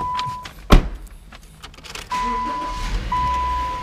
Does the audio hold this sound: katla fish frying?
no